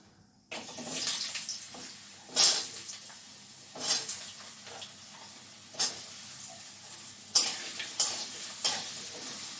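Potatoes fry in hot oil with nigella seeds, dried chilli and bay leaf, a steady close sizzle broken by several louder stirring scrapes spaced a second or two apart.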